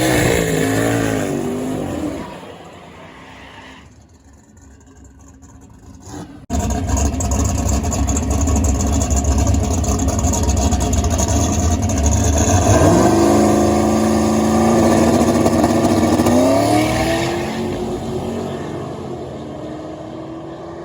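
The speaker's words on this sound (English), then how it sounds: "So this is the first pass." A drag car makes a full-throttle A-to-B test pass at a Friday night test-and-tune, with its engine revving loud, a brief drop in the noise, then a sustained roaring pull with gear changes before fading slightly.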